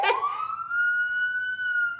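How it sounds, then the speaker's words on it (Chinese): A police siren wails, one loud tone sweeping upward and then holding steady with a slight waver, close by and alone, with no voices. "哪来的警报声？"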